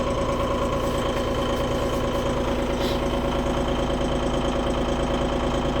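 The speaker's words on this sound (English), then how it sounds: "As you can hear, more as the time goes, the motor comes quieter." A Massey Ferguson 1740M tractor idles with its engine cold in minus 15 degree weather, a steady, loud, close diesel drone with an even throbbing rhythm and no talking.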